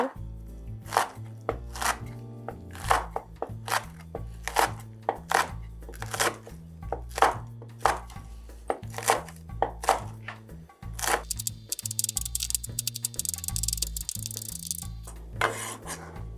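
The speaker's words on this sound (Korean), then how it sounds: "그래서 조금 다져주듯이 그렇게 썰어줄 거예요." Quick, steady knife chops mincing chili peppers on a cutting board, repeated many times in a brisk rhythm, with music playing underneath.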